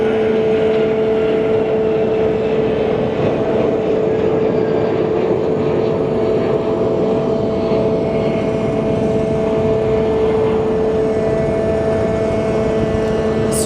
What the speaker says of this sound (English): that APU thing should be shut off soon